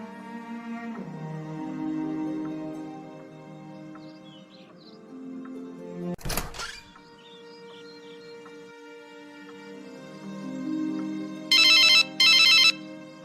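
A telephone rings for an incoming call late at night. Repeated electronic ring bursts sound over a sustained musical background, with a sharp noise burst midway. No one speaks.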